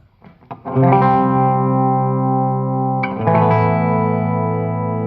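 Electric guitar with a single pickup, played through an amp set for a darker tone, rings out two sustained distorted chords with a short gap between them, thick and loud with a touch of reverb.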